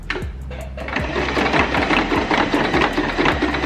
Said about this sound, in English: And then now I'm going to start stitching.